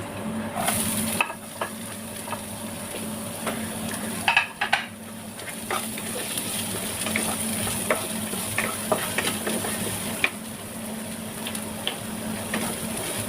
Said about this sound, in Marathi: थोडासा गॅस फास्ट ठेवायचा तसं कांदा परतून घेतलेला आहे